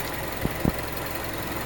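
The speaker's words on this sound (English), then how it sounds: "if you ever want to know what a 16 valve variable valve timing engine sounded like on one of these, this is what it sounds like" A Mazda CX-7 with the 2.5-litre 16-valve variable valve timing engine idles steadily after a cold start at minus nine degrees, a continuous even hum with a couple of faint ticks.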